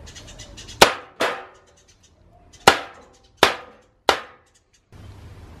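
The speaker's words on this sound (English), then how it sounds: "I'm gonna stab a part of this thing to see if it would actually work as body armor." A rebar knife stabbing into a bucket fashioned as body armour over wood gives five sharp, loud clanging impacts, each with a short ringing decay, spaced irregularly across a few seconds with quiet gaps between.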